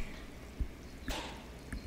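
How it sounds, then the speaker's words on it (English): Liquid pouring in the video game Cooking Simulator, a brief soft splashing trickle with a few drips, quiet and alone without speech. "I hear stuff pouring."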